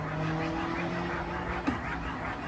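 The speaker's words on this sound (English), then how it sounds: "I live literally by the highway, and all you hear is cars and motorcycles" Steady traffic rumble from cars and motorcycles passing on a nearby highway, a continuous background roar with a brief louder swish midway.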